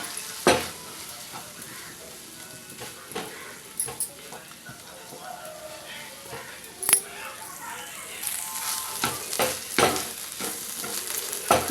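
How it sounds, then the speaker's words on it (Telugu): Egg rice mixture with a spoon of vinegar is stirred in a hot pan, giving a low continuous sizzle broken by sharp spatula clinks and scrapes at irregular intervals. "ఒక స్పూన్ వెనిగర్ వేసి మొత్తం కలిసేలాగా కలుపుకుందాం."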